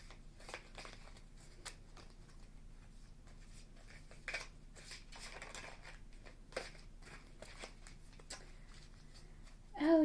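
A tarot-style frequency deck of cards being shuffled by hand, giving quiet, intermittent papery flicks and slides, close but soft, with a louder rustle at the very end.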